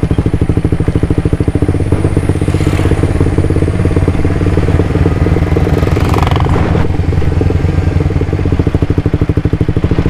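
Suzuki GSX-R 150 motorcycle engine thrumming steadily up close while riding a rough, bumpy road, with a low pulsing drone, rattling clatter and brief wind or scrape bursts throughout.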